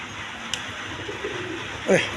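A Chila pigeon sitting on eggs gives low soft coos in the background, faint and intermittent beneath ambient noise, with a brief louder burst near the end.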